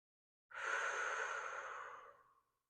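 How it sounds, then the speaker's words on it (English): A single long, slow exhale during a yoga stretch, close and soft, rising quickly and tapering off over about two seconds with no talking. "just breathe a couple breaths"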